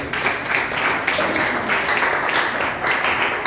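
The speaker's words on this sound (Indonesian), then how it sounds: "Beri dulu tepuk tangan buat Tuhan Yesus" Church congregation clapping during a sermon, a steady, fairly even round of applause that fills the room and continues evenly throughout.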